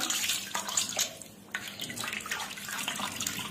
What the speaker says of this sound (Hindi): गर्म पानी से इनको अच्छे से साफ कर करके साफती हूँ